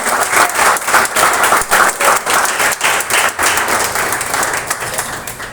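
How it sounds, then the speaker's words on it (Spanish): A church congregation claps during a Wednesday service, the loud applause pulsing in an uneven rhythm of bursts before easing slightly at the end. "Denle un aplauso, Señor."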